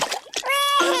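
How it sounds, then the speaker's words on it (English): A young child splashing water in a swimming pool, with bright broadband splashes in the first half followed by a sustained tonal cry or squeal, close and fairly loud. "But you don't need to splash quite so much."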